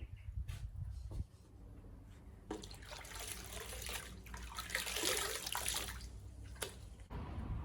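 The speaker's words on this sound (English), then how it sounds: "it's really important that I clean the roller, clean the stone, and I can do that with a sponge and a bucket of water" A sponge and a bucket of water used to wash grit off a sharpening roller and stone: close splashing, sloshing and trickling that comes and goes in bursts, with brief quieter pauses.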